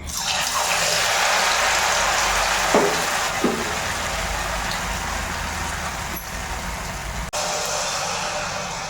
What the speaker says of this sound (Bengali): এখন তো আমি গুড়পিঠে ভাজা করছি